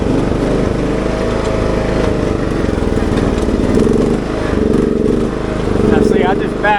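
A John Deere GT 275 lawn tractor engine, prone to vapor lock, runs steadily and loudly at close range with a constant low drone and slight surges, choke backed off.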